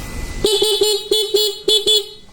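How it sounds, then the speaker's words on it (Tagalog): A stock car horn honks in a series of about six short, loud, close blasts with brief gaps, sounding alone with no talk. "Try natin magbusina mga boss. Meron tayong stock horn"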